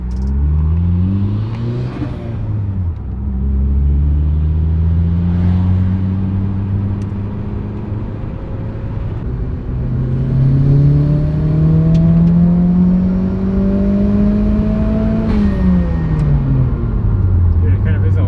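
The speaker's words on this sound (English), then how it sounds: "Let me flip around and do another rattly pull." A turbocharged car accelerates hard through several gears, its engine note rising and dropping between shifts. Interior rattles sound alongside it, and people talk over the loud, close engine.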